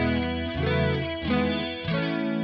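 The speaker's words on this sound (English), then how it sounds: "But also getting this really warm chorus tone." A guitar runs through a BOSS CE-1 chorus profile on a Kemper Profiler, giving sustained chords with a warm, wavering, shimmering modulation. The tone is thick and slightly driven, with three chord changes blending smoothly and no background noise.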